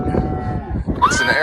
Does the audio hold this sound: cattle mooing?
yes